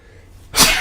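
After a near-silent pause, one person lets out a single sharp, loud sneeze close to the microphone.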